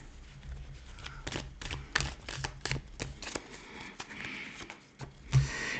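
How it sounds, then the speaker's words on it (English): A tarot deck is given an overhand shuffle, producing close, quiet bursts of card riffles and flicks in an irregular rhythm, with soft handling noises between. "Do a little overhand shuffle and we'll call it a read here."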